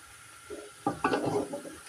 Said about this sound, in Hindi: मसाले डाल के मैं इसकी बुनाई करती हूँ